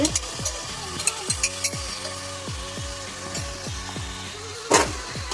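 Ginger garlic paste sizzles steadily in a hot pan as it is stirred into a doi chicken gravy, a continuous frying hiss marked by repeated scraping strokes of the spatula and a few sharper clatters, with no talking.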